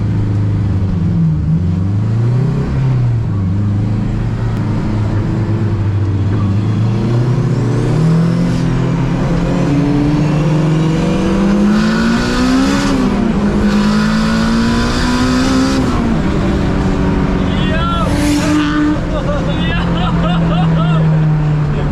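A 600bhp Honda Civic Type R sleeper revs hard and accelerates, its loud engine note climbing through repeated pulls with gear-change dips, close and continuous throughout.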